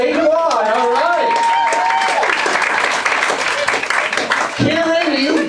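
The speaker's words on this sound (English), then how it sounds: "Big round of applause for your esteemed roast master, Kieran Quinn, everybody." Audience applause and cheering at a comedy roast, a steady roar of clapping from a crowd under a loud, excited host voice speaking over it, with the clapping continuing throughout.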